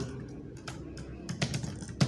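Someone types text on a computer keyboard, a sparse run of crisp key taps that grows busier and louder toward the end, with no talking over it.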